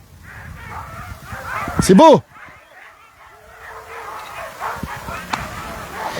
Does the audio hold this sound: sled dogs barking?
yes